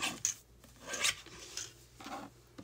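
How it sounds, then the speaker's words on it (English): A mini guillotine trimmer slicing paper, a few faint, close rasping swipes and scrapes in short bursts, heard alone with no talking. "Get my little mini guillotine trimmer."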